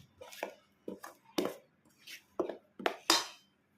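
Fish being mixed with rice flour and masala in a bowl, heard as a series of sharp, close scraping and clattering strokes of a spoon against the bowl, arriving in irregular bursts with no talk.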